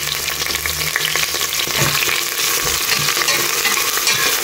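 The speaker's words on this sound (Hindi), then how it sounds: "आनी हे तेजे बरोबर घालता हांव न्ही थोडीशी करी लीव्स." Curry leaves hit hot oil in a pan, giving a loud, close, continuous crackling sizzle with bursts of spitting and occasional stirring scrapes.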